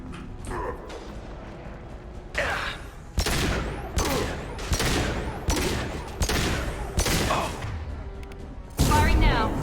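Bursts of gunfire in the video game Space Koboy, several loud rapid fusillades separated by short pauses, with a voice speaking faintly between volleys.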